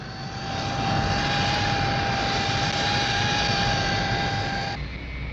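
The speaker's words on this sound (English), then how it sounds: "Another high-speed fighter in quantity production for the Royal Air Force, Hawker Siddeley's P1127" Hawker Siddeley P1127 jet fighter of the Royal Air Force, with a Pegasus engine, roaring steadily in level flight with a loud, sustained whine and broad rumble that cuts off sharply near the end.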